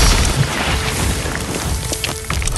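Arrows firing en masse from Archidon archers in the Stick War Legacy video game, a dense continuous crackling barrage with booming low impacts, loud and busy throughout with no pause.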